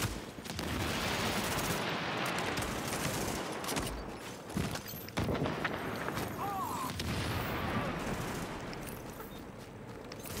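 A grenade goes off in a video game amid continuous heavy gunfire and booming, with a dense, sustained roar and sharp bursts, and a voice speaking faintly under the battle noise.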